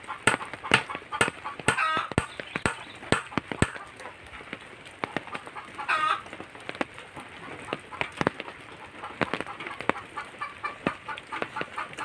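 Chickens around a rural home kitchen in the rain: frequent sharp clucks and squawks repeat over steady rainfall, with a couple of louder rooster-like calls standing out close by.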